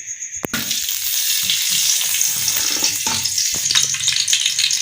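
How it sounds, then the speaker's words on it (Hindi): Ghee poured into a hot kadhai for frying cauliflower pakoras gives a loud, steady sizzle and hiss close up, broken at first by a few sharp clinks, with no voices. "तकरीबन आधा किलो घी डाल देंगे।"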